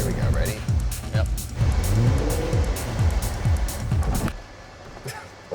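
A Lotus Esprit's engine revs and rises in pitch as the car pulls away, with people talking over it. The engine noise drops off abruptly near the end.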